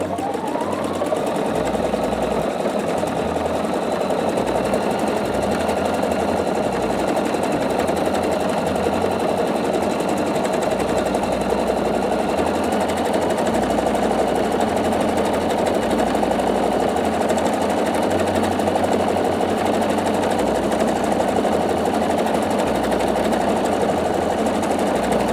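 A Pfaff Quilt Expression 720 sewing machine stitches fabric in one long, steady run, its motor hum and rapid needle chatter loud and continuous from start to finish with no pauses.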